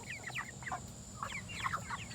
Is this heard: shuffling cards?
no